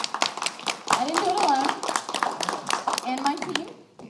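Clapping from a fan convention audience mixes with people talking and a voice, hands tapping unevenly before fading out near the end.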